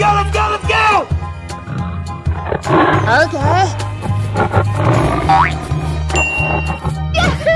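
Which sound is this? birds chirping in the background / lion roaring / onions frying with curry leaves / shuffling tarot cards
lion roaring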